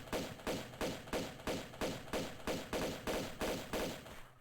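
Pistols fire in Tomb Raider, about ten evenly spaced, punchy shots in a rapid, steady rhythm, each with a brief decaying tail, fairly quiet overall and with no voices.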